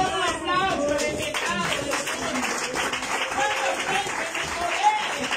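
Steady applause from a church congregation at a lively worship service, a dense continuous wash of clapping mixed with crowd voices and speech throughout.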